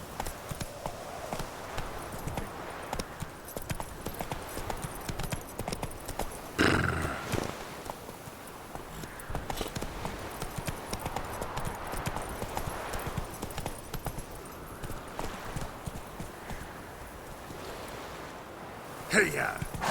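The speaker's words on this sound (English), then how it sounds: "Whoa there, Roach." A horse in The Witcher 3 clip-clops at a steady gait with occasional neighs and whinnies; someone speaks over the hoofbeats at times.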